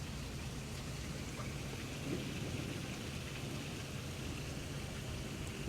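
Heavy rain pours steadily during a thunderstorm in Houston, Texas, a dense unbroken hiss with low rumbling underneath and no voices.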